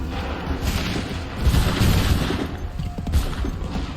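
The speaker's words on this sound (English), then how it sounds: "Hold fire! Fire now! Hold fire! Open fire!" Musket volley gunfire in the video game Assassin's Creed III, a dense rumbling burst of overlapping shots with booming low end that swells and recurs across a few seconds.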